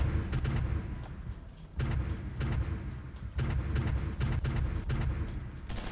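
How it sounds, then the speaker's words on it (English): Artillery bombardment in the strategy game Supreme Ruler Ultimate plays as a steady stream of dull booms and bursts. The rumbling impacts repeat irregularly at moderate volume against continuous low background noise. "seems like we are actually killing some of the garrisons there with our bombardment"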